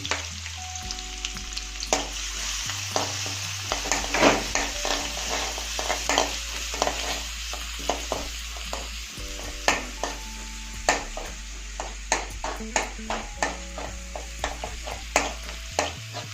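Finely chopped garlic frying in a pan for egg manchurian, with a steady sizzle broken by frequent sharp scrapes and clicks of stirring, close and fairly loud, while a low steady hum and faint tones run underneath.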